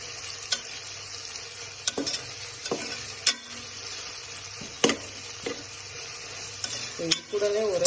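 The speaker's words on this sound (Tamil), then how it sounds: "நல்லா ஆனியன் வந்துட்டு நல்லா ஃப்ரை ஆகணும்" Chopped onions frying in hot oil in a pan for chicken biryani, a steady close sizzle broken by the scrape and clack of stirring at irregular intervals.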